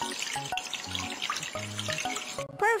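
Cartoon running water from a tap fills a sink as dishes are washed in a children's house-cleaning video game, with a steady splashing hiss under light musical game tones and a short rising chime near the end.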